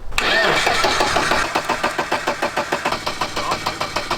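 A car engine cranks briefly and catches, then settles into a rhythmic, pulsing idle, close and fairly loud.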